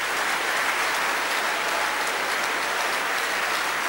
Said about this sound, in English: I used to think that victorious youth clap more than that.